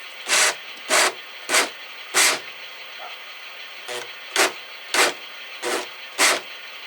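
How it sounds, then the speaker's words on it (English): Hole saw cutting through an indoor wall during an electrical panel installation, heard as nine short, loud rasping bursts of uneven spacing with brief pauses between strokes and no talk. "There's my hole saw."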